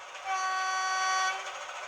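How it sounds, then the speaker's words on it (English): Horn of a Heljan Class 33 model diesel locomotive fitted with sound, a single steady, bright two-tone blast held for about a second, close up and clear, with faint background hiss before and after. "2 is one of the horns."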